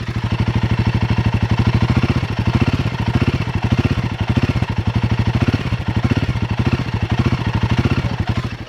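A Royal Enfield Guerrilla 450 motorcycle engine runs close by with a steady, loud thumping idle, its pulsing rhythm shifting slightly as the throttle is blipped, with no voices over it.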